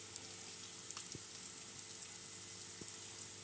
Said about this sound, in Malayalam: ഒന്ന് ചെറുതായിട്ട് വാടി വരുന്ന വിധത്തിൽ മാത്രം നമ്മൾ വെജിറ്റബിൾസ് വഴറ്റാൻ പാടുള്ളൂ കേട്ടോ